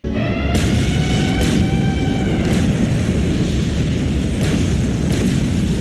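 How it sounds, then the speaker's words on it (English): A heavy, continuous rumbling roar of an explosion from the 1993 film Time Runner, dense and loud throughout, with sharp cracks and a fading tonal ring layered over it. "Added more cuts of the same explosion."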